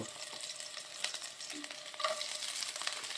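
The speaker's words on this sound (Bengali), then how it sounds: "ওই যে চিরা ভাজতেছি, এটা ভাজছি হচ্ছে আপনার চিরাংশ।" Flattened rice (chira) fries in a pan with a steady, close sizzle, broken by occasional stirring scrapes and brief crackles.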